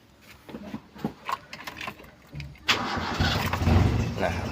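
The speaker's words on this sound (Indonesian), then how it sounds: "Kita coba nyalakan untuk mobilnya. Apakah sudah bisa stasioner?" A Toyota Kijang engine with a repaired ECM module cranks with a few sputtering clicks and turns, then catches and settles into a steady, rumbling idle, close and moderately loud.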